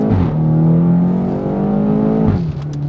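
BMW X5M F85 SUV in Sport Plus mode accelerates hard, the engine note rising loudly and close through the rev range before a shift drops the pitch near the end.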